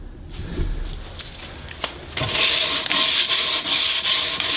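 Sanding an octagonal steel muzzleloader barrel by hand with 220-grit sandpaper. After a quiet start, steady, close rasping strokes begin about halfway through and continue in a brisk rhythm.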